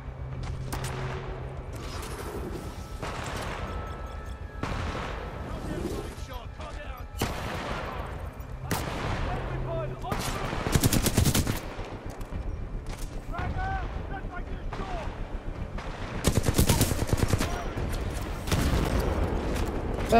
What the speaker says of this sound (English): Nope, stop shooting at me.